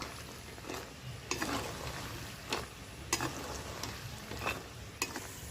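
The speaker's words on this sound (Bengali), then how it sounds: "এক মিনিট পরে পরে উল্টে পাল্টে টোটাল সাত থেকে আট মিনিট সময় নিয়ে ভেজে নেব মদন ভাজাগুলো" Madan bhaja sweets fry in hot oil with a steady, soft sizzle, broken by a few quiet clicks and scrapes as they are turned in the pan.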